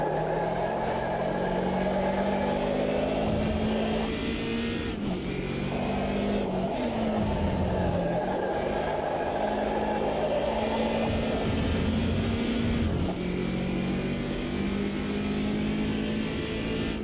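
Race car engines in the Automobilista 2 video game drone loudly and continuously during an overtake, with the pitch shifting through gear changes and a few brief dips.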